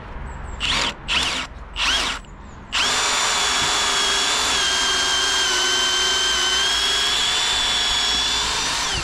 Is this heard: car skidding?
no